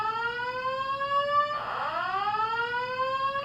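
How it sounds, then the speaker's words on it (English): Building fire alarm sounding indoors at a county meeting, a loud steady electronic tone with a sweeping whoop partway through, continuous and close throughout. "Attention, fire alarm has been activated."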